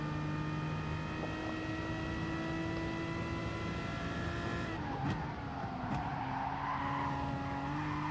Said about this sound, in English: A little bit of skidding, we're not too bad.